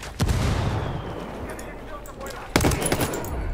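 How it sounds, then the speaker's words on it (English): Mortar rounds striking near the player in Ghost Recon Wildlands, two loud booming impacts with rumbling, crackling noise between them. "Yeah, they're mortaring me."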